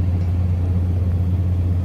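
A Toyota Tundra SR5 pickup engine idles right after starting, giving a steady low rumble with a strong low hum that stays even and close throughout, with no talk over it.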